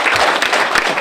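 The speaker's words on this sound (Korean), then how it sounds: "다시 한번 권영혜 대장께 큰 박수로 받아 부탁드리겠습니다" An audience at a formal ceremony applauds after a speech, a dense, loud burst of clapping from many hands that fills the whole moment with no voices over it.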